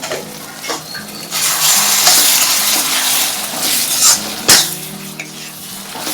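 Prawns frying in a covered pan on a gas stove at full flame, a steady loud sizzle with occasional clinks and stirring scrapes of utensils against the pan, no talking.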